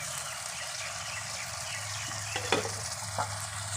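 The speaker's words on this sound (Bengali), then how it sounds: "একটু নাড়াচাড়া করে দেব।" Lentil fritters with banana flower frying in oil in a pan, a loud continuous sizzle and hiss with a few stirring scrapes and knocks near the end.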